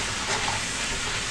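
Food sizzles in a hot pan while nacho filling cooks, a steady close hiss that holds evenly through the short moment with no talking.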